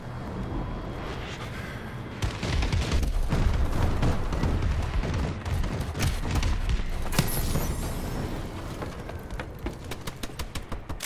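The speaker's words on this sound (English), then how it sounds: "Friendly bombing run incoming." A bombing run in the Call of Duty Advanced Warfare video game brings a rolling series of heavy booming explosions with deep rumble, then rapid sharp cracks of gunfire toward the end.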